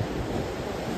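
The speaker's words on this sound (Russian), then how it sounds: "Посмотри, волна такая тут собирается вообще." Ocean waves break along the shore at Bajamar, Tenerife, a steady, loud surf roar with wind rushing across the microphone and no voices.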